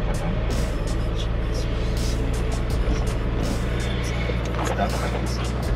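A vehicle grinds up a bumpy, steep road in the Chyulu Hills with a heavy, constant engine drone and rattling knocks from the rough terrain, a voice talking over it.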